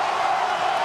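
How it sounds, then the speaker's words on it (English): Arena crowd at a men's college basketball game between Washington and Stanford roaring steadily after a big score, a dense, loud, continuous wash of cheering with no pauses. "And now listen to the crowd."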